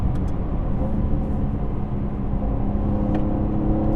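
Steady engine hum and road rumble from inside a 2017 Jaguar XE 35t R-Sport sedan on the move, even and continuous, with no voices.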